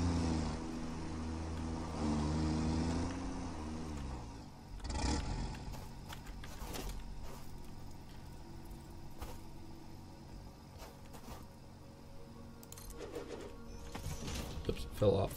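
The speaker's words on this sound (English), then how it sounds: "all you're hearing is as the tires are spinning out on it" In the game Satisfactory, a truck's tires spin out with a droning engine whine that rises and slides in pitch for about five seconds. The truck then settles into a rougher rumble with scattered clunks while a person talks over it.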